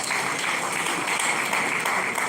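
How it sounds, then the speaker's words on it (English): Audience applauding a town planner's paper presentation at a Nigerian Institute of Town Planners chapter event, a dense, even wash of many hands clapping that continues without a break. "Let's give him a hand of applause"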